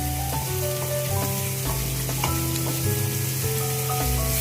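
Onions and unripe green tomatoes frying in a pan: a steady, close sizzle with scattered stirring clicks, over a constant low hum in the room.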